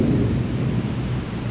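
Deep, continuous thunder rolls through a rainstorm, loud and close, with rain hissing steadily underneath.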